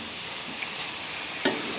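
Vegetables frying in a pan for white sauce pasta give a soft, even sizzle, with a brief scrape of stirring near the end and no talk.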